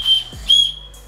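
An emergency survival whistle from a camping and trekking kit gives two short, shrill, close blasts, the second slightly longer, with a brief thump between them.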